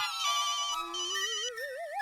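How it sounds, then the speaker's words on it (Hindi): A mobile phone plays a bright electronic ringtone melody, close and clear, with no talking over it. "वो फोन मेहता साहब का है ना तो वो उठा के मैं बात करूंगा"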